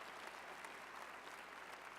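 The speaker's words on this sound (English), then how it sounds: "give that a round of applause" A large audience at the 2016 Virginia Workforce Conference applauds a speaker, an even, continuous wash of many hands clapping, heard from a distance and fairly soft.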